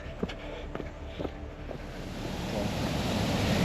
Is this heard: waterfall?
yes